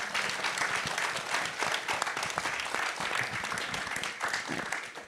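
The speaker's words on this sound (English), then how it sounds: "can we have a round of applause for our panelists?" Dense, steady audience applause after an author panel discussion, many hands clapping together at close range for several seconds.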